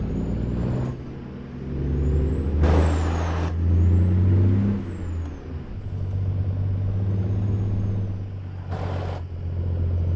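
A parked truck in American Truck Simulator lets out short, sharp hisses of air brake release over a steady, low diesel idle rumble, with a couple of bursts spaced a few seconds apart.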